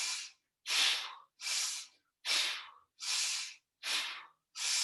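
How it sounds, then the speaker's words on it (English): Someone does a deep, rapid breathing exercise: seven forceful, hissing breaths come in quick, even succession with short silent gaps between them, close and alone with no talk. "getting ready for our 5 deep rapid breaths"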